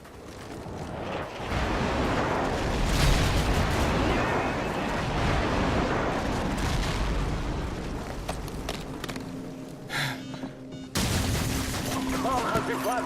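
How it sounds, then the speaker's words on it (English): Airstrike explosions in Call of Duty 4 on PC, a dense, continuous barrage of loud booms and blasts rolling over several seconds, then fading to scattered pops before a final burst; game voice lines are heard around it. "Friendly airstrike on the way."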